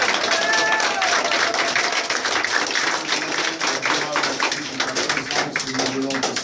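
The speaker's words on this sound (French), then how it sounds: "Acclame très fort." An audience at an evening gathering for the prophet Joël Krasso applauds loudly and continuously, with dense clapping, cheering and crowd voices filling the room throughout.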